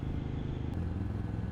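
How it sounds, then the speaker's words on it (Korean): Royal Enfield Meteor 350 single-cylinder motorcycle engine braking on a steep downhill road, a steady low, rough engine drone with wind rush, close and continuous without pause. "드디어 본격적인 내리막이 시작되고 또 단기통 엔진의 힘겨운 엔진 브레이크가 시작됩니다."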